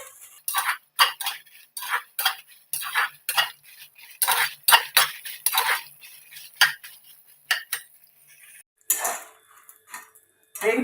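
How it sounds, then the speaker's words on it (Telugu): Dried red chillies fry in oil for gongura pachadi while a metal spoon stirs them, giving rapid, loud, irregular clinks and scrapes against the pan, close up, with brief pauses between strokes. "పోసాను కదా, ఆయిల్లో కొంచెం ఫ్రై చేయాలన్నమాట."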